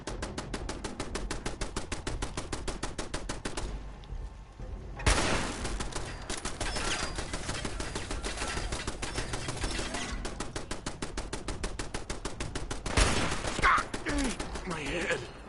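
A gun firing incendiary rounds in Fallout 4, fast evenly spaced automatic shots in long bursts, a short pause, then a loud blast and more sustained rapid fire, close and dominant.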